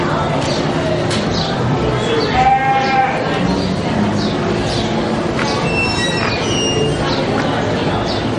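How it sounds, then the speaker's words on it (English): Sheep and show goats bleat in a county fair livestock barn in Klamath Falls, Oregon, with a few short calls rising over a steady, busy crowd murmur and barn noise. "The show goats and the sheep."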